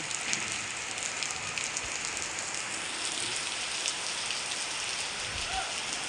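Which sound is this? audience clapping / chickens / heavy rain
heavy rain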